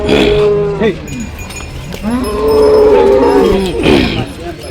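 Cattle, including white bulls and draft cows, at the Punganur livestock market give several loud, close, drawn-out moos and lowing calls over a busy background.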